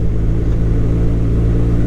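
A BMW R1250RT motorcycle engine running steadily at about 3,600 RPM in fourth gear around 55 mph, a loud, continuous low rumbling drone heard close without talk.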